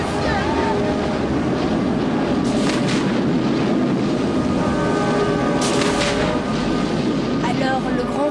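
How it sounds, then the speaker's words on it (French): Film storm and earthquake effects: a dense, loud, continuous rumble with wind-like roar and occasional sharp cracking bursts, with a voice talking over it. "Une tempête fit rage. Tout devint noir. Et un tremblement de terre secoua toute la Judée."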